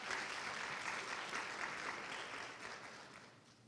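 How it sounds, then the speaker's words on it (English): A crowd at a coronation ceremony for Mr. and Miss ASU gives the senior leadership team a sustained round of applause, with dense, even clapping that is fairly faint and fades slightly toward the end. "Yes, let's give them a round of applause."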